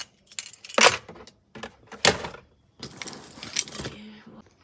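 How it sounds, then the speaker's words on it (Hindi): Bunch of keys jangling in bursts while items are unloaded from a car, loud and close, with short pauses between the metallic rattles. "पता नहीं किस चीज़ की चाबी इसमें अटकी हुई है"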